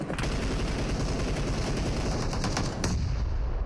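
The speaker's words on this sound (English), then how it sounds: "Grenades coming in strong here." Gunfire and grenade blasts in a PUBG Mobile esports match: dense bursts of rapid automatic shots rattle continuously, with sharp cracks and a heavier burst near the end.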